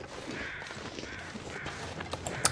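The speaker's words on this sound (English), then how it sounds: "I hear crows." Crows cawing in the snowy wilderness of The Long Dark, a few short harsh calls at moderate distance over a faint steady ambient bed, with no voices.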